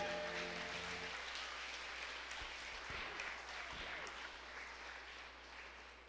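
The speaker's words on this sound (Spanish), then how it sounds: "Dele un aplauso a él" A church congregation applauds, a dense, even wash of clapping heard at a distance and fairly quiet, slowly fading toward the end with no voices over it.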